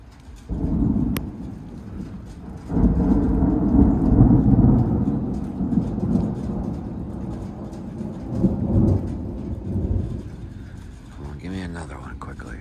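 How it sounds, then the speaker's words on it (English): Heavy raindrops fall during a thunderstorm, a dense steady patter with rumbling thunder swelling beneath, loud and close, easing toward the end. "Here comes the big raindrops."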